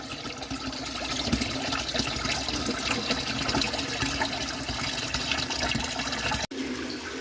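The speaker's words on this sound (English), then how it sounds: "drain out the sediment from the faucet, you can turn the faucet off" Water runs steadily from a bathroom sink faucet, flushing sediment down the drain in a continuous close splashing rush with a brief cut near the end.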